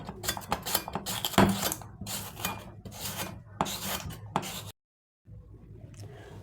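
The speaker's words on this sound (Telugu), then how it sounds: "ఇప్పుడు మనం దీన్ని ఆలు పీలర్తో, చిప్స్ చేసే పీలర్తో కట్ చేసుకుందాము." Peeled potatoes are sliced into thin chips on a chip-cutting peeler, giving steady rhythmic rasping strokes, close and crisp, with a short silent pause before the scraping resumes.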